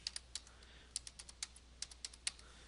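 Quick keystrokes on a computer keyboard while a large number is entered into CAD software, about a dozen sharp, light clicks in uneven bursts, close and clear over a quiet room hum.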